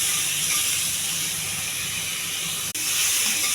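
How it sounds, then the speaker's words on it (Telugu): Chopped walnuts frying in a pan with cumin, mustard seeds and salt, giving a loud, steady hiss of sizzling oil that runs unbroken, close by, with a brief dropout near the end. "ఈ వాల్నట్స్ కూడా కొంచెం వేగాలి."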